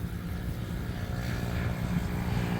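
An FW200 remote-controlled toy helicopter in flight gives off a continuous buzzing whir of small rotors and motor, steady and fairly close, swelling slightly louder toward the end.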